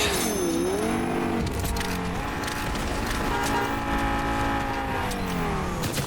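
Engine of a car in the video game Fortnite drones and revs steadily, its pitch sliding up and down, with bursts of game sound over it.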